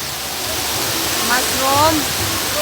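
Water from a fountain at a resort splashes and rushes in a steady, loud wash, with people talking faintly over it.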